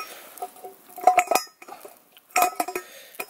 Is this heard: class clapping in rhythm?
no